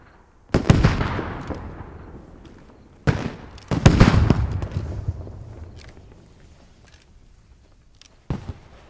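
Grenade explosions in the Squad military video game, several sharp loud blasts with rumbling decays, spaced a few seconds apart.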